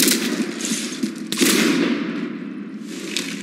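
Rapid automatic gunfire hammers at a ship during a battle in Mass Effect 3, loud sustained bursts with short pauses between them and a fading tail near the end, with no voices.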